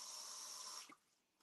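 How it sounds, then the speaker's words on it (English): Water runs steadily from a tap into a sink or container, filled for mixed-media painting with a large paddle brush, then cuts off abruptly with a few faint clinks and drips afterward. "Fill that up with water."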